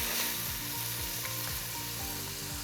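Lamb pieces browning in a hot pan for Turkish Sultan's Delight (Hünkar Beğendi), giving a steady close sizzle with a low rhythmic thumping pattern underneath, and no voices.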